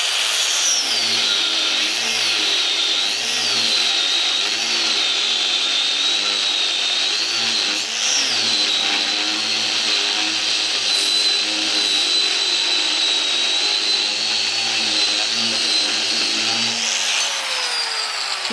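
An angle grinder with a cutting disc slices through steel in a continuous loud, high whine with grinding rasp, holding close and steady throughout with slight pitch shifts under load.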